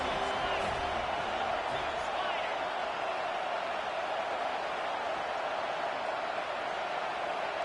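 A dense, steady roar of a large college football stadium crowd in a video game fills the clip without pause, a broad wash of cheering noise with no distinct voices standing out.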